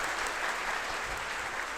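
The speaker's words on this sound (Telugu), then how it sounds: "గట్టిగా చప్పట్లు కొడుతూ స్వాగతం, ఘన స్వాగతం తెలుపుదాము" A church congregation claps to welcome the bishop on a pastoral visit, a thick wash of continuous applause heard from a little distance at moderate loudness.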